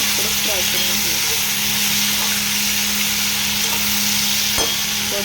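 Chopped capsicum fries in a hot pan for soya chilli, a steady loud sizzle running unbroken with a few faint stirring scrapes and clinks.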